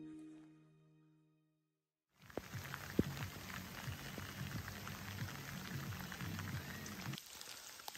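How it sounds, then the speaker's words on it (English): Rain falls in cold, cloudy weather on Alaska's Kenai Peninsula, a steady close patter of drops that starts suddenly after a quiet opening with a fading tonal hum, then runs on with occasional louder taps. "the weather has turned today. It's pretty rainy, cold, and cloudy."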